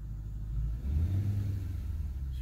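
A 2003 Infiniti M45 engine runs at a steady idle, a low, close rumble that stays even throughout the short stretch.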